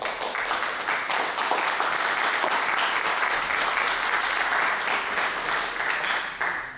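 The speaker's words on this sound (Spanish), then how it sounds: "os pido un aplauso de bienvenida" A lecture audience applauds steadily in welcome, a dense, even wash of clapping that holds for several seconds before tapering off at the end.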